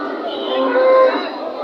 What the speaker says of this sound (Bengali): এই বাছুরগুলো দেখেন, এগুলো ফ্রিজিয়ান জাতের কালো জাতের বাছুর